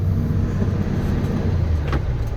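A dump truck with a new rear differential climbs a hill, its engine a steady low rumble held at even revs, close and continuous without talk.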